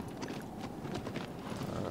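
Horse hooves in the video game Shadow of the Colossus, a steady quick clip-clop of galloping on open ground, faint and continuous across the short stretch.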